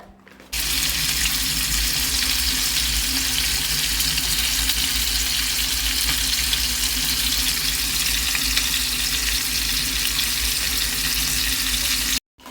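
A fish fry in a hot pan gives a loud, steady, close-up sizzle. It starts abruptly, holds at an even hiss for about twelve seconds, then cuts off.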